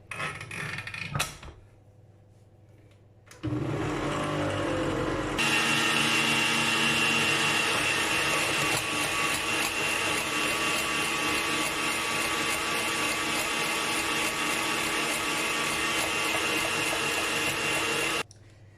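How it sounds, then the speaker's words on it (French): Electric mixer whirring steadily as it beats eggs into a sponge cake batter for a vanilla-raspberry bûche de Noël, loud and continuous for long stretches after a brief quieter start, with no talking. "Donc là, je vais encore battre un petit peu."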